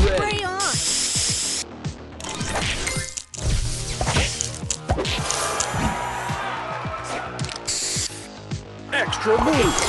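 Spray booster effect in a match-3 puzzle video game, loud hissing spray bursts among bright chimes, pops and musical game effects.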